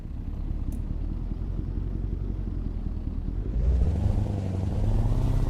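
V8 engine of a Scania 2 Series 112/142 truck mod in American Truck Simulator, a steady deep rumble that swells louder and rises in pitch near the end as the engine revs.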